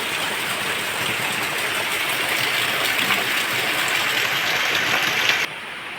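Steady rain falls in a village, a dense even hiss that holds loud and constant before suddenly dropping away near the end.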